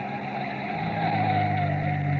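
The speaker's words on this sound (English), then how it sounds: "a single car slows to a stop" A single car on a lonely dirt road at night slows toward a stop, its engine a steady, close, continuous rumble with a faint tire hiss, no voices.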